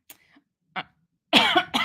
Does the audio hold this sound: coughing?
yes